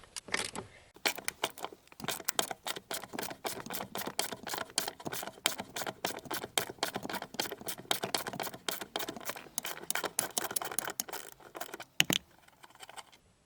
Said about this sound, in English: Start off with that bolt on the bottom, 13mm socket.